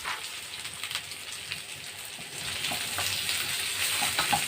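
Sausage frying in a pan on a home stove, a steady close sizzle with crackling pops that swells slightly toward the end.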